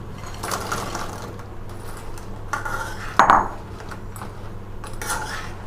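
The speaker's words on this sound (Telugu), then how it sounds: "ఈ చికెన్ ముక్కల్ని యాడ్ చేసుకోవాలి" Fried chicken pieces drop into a pan of simmering chili chicken base, giving a clink of metal on the pan and a short scraping stir over a steady low hum of cooking.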